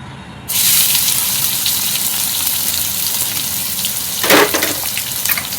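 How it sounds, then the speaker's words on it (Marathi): Curry leaves and onion hit hot oil with a sudden loud crackling burst, then settle into a steady, close sizzle with a brief sharper spurt near the end. "तेल चांगलं गरम झालेलं आहे कढीपत्ता घालत आहे कांदा घालत आहे"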